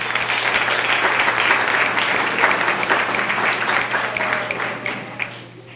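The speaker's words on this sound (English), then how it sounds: "That deserves some applause." An audience at a college cultural awareness event bursts into sustained applause, a dense, even clatter of many hands that holds steady before tapering off toward the end.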